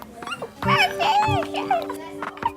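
A voice imitates a dog, with repeated yelping bark-like cries and whimpers, close and fairly loud, mixed with other children's voices during play.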